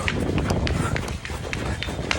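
Quick running footsteps pound along in a steady rhythm on a railway platform, close and fairly loud, with a busy crowd murmuring around them.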